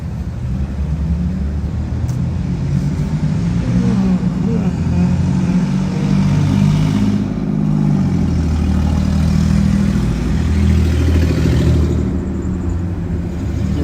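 A car called a Radillac, a Cadillac-style vehicle, runs on a patrol stop. A continuous low engine rumble with mild revving swells stays steady throughout, close and loud.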